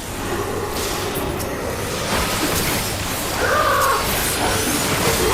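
A bird in the Final Fantasy XIV video game lets out a harsh cawing call over a dense, hissing game soundscape with a soft whoosh, the call rising briefly near the end.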